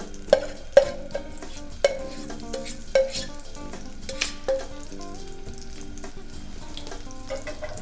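Shallots fry in a pan with a light sizzle, accented by several crisp clinks and scrapes of a utensil stirring, strongest early then sparser, heard close with no voices.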